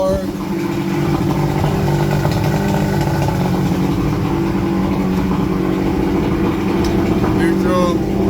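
A 1979 Evinrude 100hp V4 two-stroke outboard runs steadily at around 1500 RPM, a loud, continuous droning motor with a low buzzing hum, shifted between reverse and neutral with a brief voice over it.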